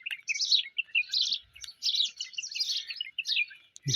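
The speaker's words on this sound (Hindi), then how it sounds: "ये चिड़ियों की चुन चुन।" Small birds chirping in a berry tree in the early morning, bright rapid tweets and short calls repeating close by against otherwise quiet surroundings.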